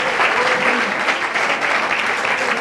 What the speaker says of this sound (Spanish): un aplauso también para Nabla, por favor